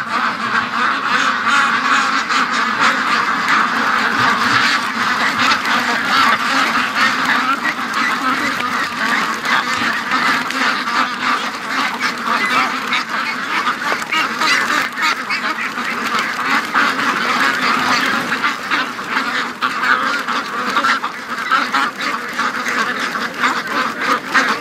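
Free-range ducks quack steadily and loudly in a crowded, overlapping chorus outdoors that continues throughout, with a voice talking now and then among them.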